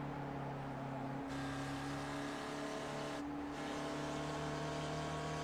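Race cars roaring around a circuit during a race, a dense, continuous engine drone with steady high whine and brief shifts as cars pass, loud and sustained throughout.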